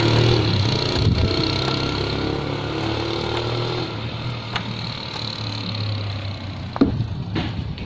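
A car engine runs during routine servicing, a steady low hum that fades slightly over time, with a few faint clicks and knocks near the end and no voices.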